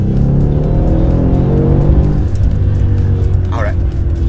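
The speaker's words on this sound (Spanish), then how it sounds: "típico AMG es que el carro de verdad suena" Engine of a 2015 Mercedes-Benz S63 AMG Coupe with all-wheel drive, a loud steady drone from inside the car under continuous talk, with a brief rising rev near the end.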